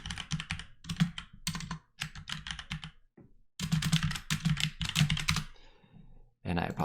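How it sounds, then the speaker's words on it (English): Rapid bursts of clacky keystrokes on a mechanical computer keyboard, close and crisp, come in quick clusters separated by brief pauses, with no talking over them. "I have a mechanical keyboard."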